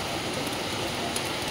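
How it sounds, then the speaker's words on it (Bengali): Heavy rain pours down outdoors, a dense, even hiss of steady downpour with no breaks, loud and close. "প্রচণ্ড জোরে বৃষ্টি হচ্ছে।"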